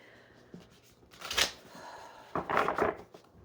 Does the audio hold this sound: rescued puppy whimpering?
no